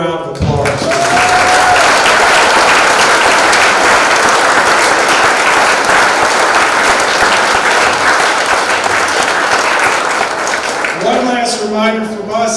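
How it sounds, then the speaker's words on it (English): An audience at a sports hall of fame induction ceremony applauds the new inductees in a long, loud, sustained round of clapping, with a voice briefly audible at the start and speech resuming at the end. "To our 6 new inductees, let's have one more round of applause."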